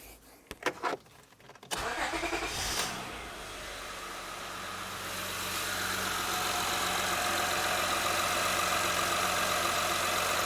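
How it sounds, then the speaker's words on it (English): A 2006 Honda Odyssey engine cranks with a few short bursts, catches, and settles into a steady, loud idle that holds to the end. "So let's start the engine and see what we got."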